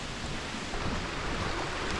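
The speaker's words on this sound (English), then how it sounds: "The rain's really not making it even through the canopy right now" Steady rain falls on the forest canopy along a wooded mountain trail on Vermont's Camel's Hump, a dense, even hiss of drops with a low wind-like rumble beneath, continuous and close for the whole stretch.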